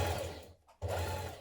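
A sewing machine runs close by, stitching the side seam of a summer dress with a steady whirring hum. It stops briefly and then starts again, and no one speaks.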